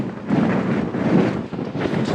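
Heavy wind buffeting a GoPro microphone on a bicycle ride, a loud continuous roaring rumble that swells and dips without letup.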